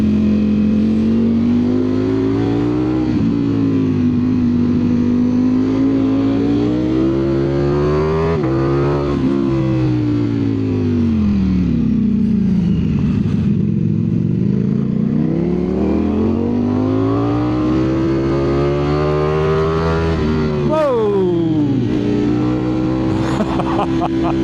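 Ducati Streetfighter V4 S motorcycle ridden on a winding mountain road, its engine rising and falling in pitch through repeated accelerations and gear changes, loud and close throughout.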